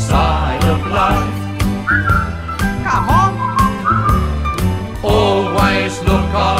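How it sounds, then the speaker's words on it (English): A bright, tuneful whistled melody carries over bouncy orchestral accompaniment in a song, with short rising and falling phrases repeated in a jaunty rhythm. "just purse your lips and whistle, that's the thing"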